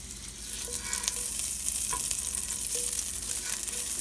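Garlic sizzling in a pan of olive oil and butter, a dense steady fry heard up close with light crackle and occasional stirring scrapes, no voices.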